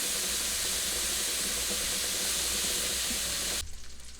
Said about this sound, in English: On the back burner, my bacon is almost ready.